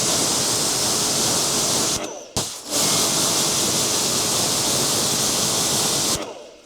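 A water spray gun rinses a car wash sponge outdoors at home, giving a loud, steady hissing gush that cuts out briefly once partway through, then resumes before stopping near the end.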